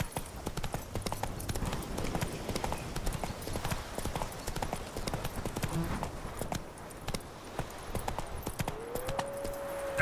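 Roach the horse gallops in The Witcher 3, a steady rapid clip-clop of hooves running throughout, with background game ambience and a voice speaking near the end.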